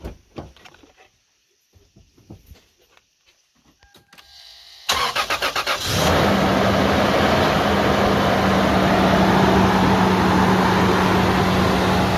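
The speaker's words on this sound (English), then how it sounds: "Let's go ahead and crank it." A car engine cranks and then fires up to a steady idle, loud and close, after a few quiet seconds of faint handling sounds; the car is stranded with a large coolant leak.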